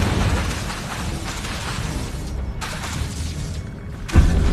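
Hogwarts Legacy's Incendio fire spell is cast in combat, with a roaring burst of flame among rumbling effects and a sharper, louder boom near the end.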